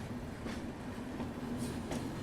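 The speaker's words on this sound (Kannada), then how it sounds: "ಸೊ ಇಲ್ಲಿ ಯಾವುದೋ ಒಂದು ಗೋರಖ್ಪುರ್ ಹೋಗುವಂಥ LTT Gorakhpur Kushinagar super fast entry ಅದ." LTT Gorakhpur Kushinagar Superfast pulling into a station, a steady rail rumble with faint clickety-clack and a thin wheel tone carrying under the noise at a moderate distance, no voices.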